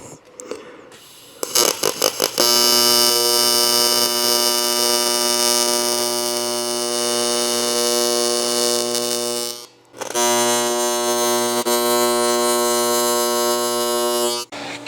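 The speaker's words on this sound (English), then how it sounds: "I'm gonna go ahead and put a tack on this corner and then run this whole weld to start." Steady loud buzzing hum of a welder running a tack and a continuous bead on the corner of a UTV cargo box, starting with a few short bursts, then a long unbroken run with a brief pause near the end.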